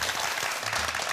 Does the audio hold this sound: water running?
no